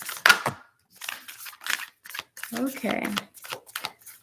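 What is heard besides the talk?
shuffling tarot cards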